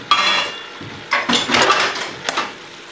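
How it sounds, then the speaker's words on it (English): Dry pasta tips into a pot in an army-style kitchen while a tuna fettuccine Alfredo is made, a few loud clattering rattles and knocks against the metal, close and alone. "So the pasta goes in like that."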